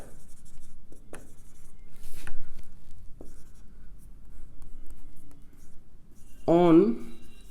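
Marker or chalk writing points on a board in a physics classroom, with scattered short scratchy strokes and taps, close and fairly quiet, and a voice speaking briefly near the end.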